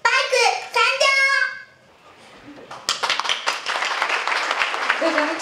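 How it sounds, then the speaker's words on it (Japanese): An audience applauds to welcome presenters at a prize ceremony in Mima, Tokushima, Japan, with dense clapping rising after an announcer speaks and continuing steadily to the end. "どうぞ拍手でお迎えください。"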